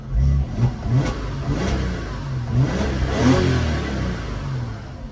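A 2002 Audi A4 V6 engine catches after a difficult start and revs, its low, uneven mid-pitched roar rising and falling close by and steady without pause throughout.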